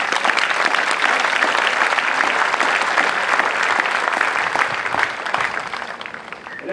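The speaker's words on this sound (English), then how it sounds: "Please give yourselves a round of applause." Crowd at an Air Force basic military training graduation parade applauds steadily and loudly, a dense outdoor wash of clapping that holds for several seconds before thinning slightly at the end, with no speech over it.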